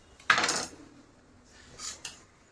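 Knife chopping a bunch of cleaned shepu (dill) greens for a Marathi bhaji, heard as two short, crisp bursts of cutting separated by a pause, fairly close and quiet.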